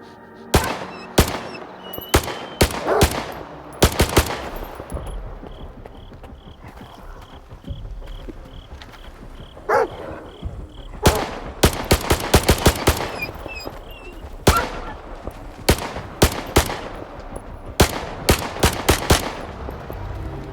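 Gunfire in the game Stalker 2, with sharp single shots fired one at a time in irregular bursts, loud and close, over quieter ambient game sounds.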